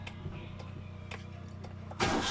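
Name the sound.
Hyundai Eon car engine starting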